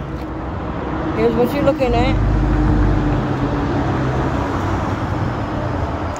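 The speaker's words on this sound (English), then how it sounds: "Sorry about these tractor trailers, guys. Yeah, man, traffic trailers are loud." Heavy tractor-trailer traffic rumbles past on a road, a loud low roar swelling and lingering while someone talks over it.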